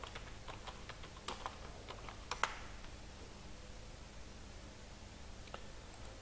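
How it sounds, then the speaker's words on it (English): Someone types an email address and password on a computer keyboard: faint, quick key taps in a quiet room, with a few louder clicks spaced among soft, steady background hiss. "Now I will type email here and password here."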